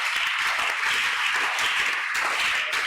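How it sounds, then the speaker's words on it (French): A church congregation applauds and cheers for the Lord, a dense, steady wash of clapping from many hands that holds at an even level throughout, without a clear break or spoken words. "Acclamons très très fort le Seigneur"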